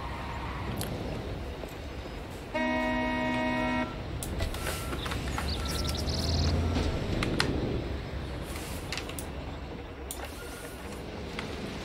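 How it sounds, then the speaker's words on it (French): A car horn sounds in the construction game Construction Simulator: one steady honk of about a second over a continuous low engine rumble and scattered game clatter. "T'amuses de klaxonner?"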